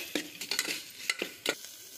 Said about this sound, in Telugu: ఇది కొంచెం పచ్చివాసన పోయే వరకు ఫ్రై చేసుకోవాలి.